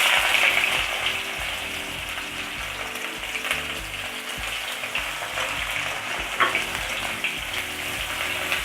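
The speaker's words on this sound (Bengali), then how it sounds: "পেঁয়াজ কুচিটা একটু নেড়ে চেড়ে ভাজা করে নেব।" Chopped onion goes into a pan of hot oil with whole garam masala and fries with a dense, continuous, close sizzle, while a utensil stirs it with a faint clatter underneath. No one speaks.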